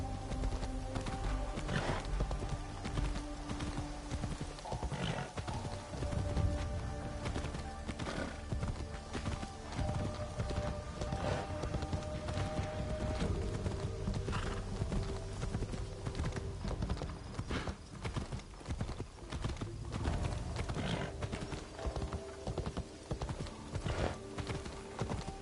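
Hooves clop rapidly and repeatedly as a horse climbs stairs in the video game Assassin's Creed Shadows at night, the steps loud and close over background game ambience, with an occasional whinny.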